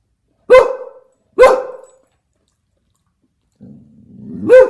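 A dog barks twice in quick succession, loud and close, then after a short silence gives a lower growling whine that rises into a third bark.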